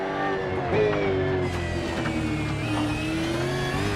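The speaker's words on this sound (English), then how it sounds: "the car accelerates" A V8 race car speeds up in iRacing at the Red Bull Ring, its engine note climbing steadily in a continuous, moderately loud whine with no talk over it.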